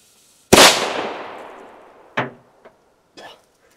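Keller cube firecracker explodes with one sharp, loud bang whose echo trails off, followed by a few smaller thuds and pops.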